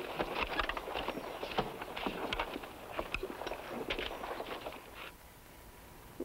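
A horse's hooves clip-clop close by in an old Western scene, a busy run of hoof knocks over a few seconds that thins out near the end, with no talk.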